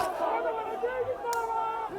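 A protest crowd at a sit-in site chanting slogans, a dense mass of voices rising and falling together, heard from nearby as a steady rhythmic roar.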